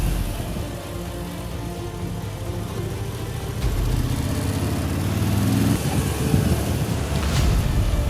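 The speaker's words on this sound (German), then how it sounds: "Die Moto Guzzi, das hört ihr ja, die arbeitet hier" A Moto Guzzi V85 TT motorcycle engine running steadily on a mountain pass, a constant mid-pitched drone that grows slightly louder partway through, with wind noise and no speech.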